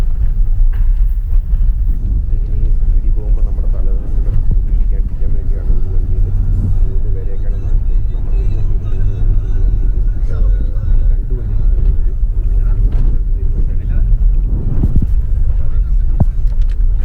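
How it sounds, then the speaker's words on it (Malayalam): A Toyota Land Cruiser drives fast over a potholed, badly surfaced road in Turkmenistan, making a continuous loud, low road rumble with engine drone and jolts from the holes. A voice talks over the noise throughout. "എല്ലാം ലാൻഡ് ക്രൂസർ ആയതുകൊണ്ട് കുഴിയൊന്നും കട്ടറും ഒന്നും പ്രശ്നമില്ലാണ്ട് വിട്ടടിച്ചാണ് പോകുന്നത്."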